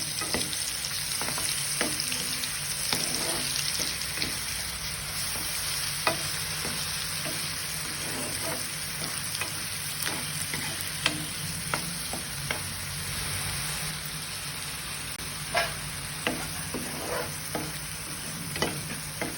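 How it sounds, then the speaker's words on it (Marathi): Masala sizzles in a pan for a besan vegetable dish, a constant frying hiss broken by frequent sharp scrapes and clicks from stirring, close and steady with no talk. "मसाला परतून घ्यायचा आहे."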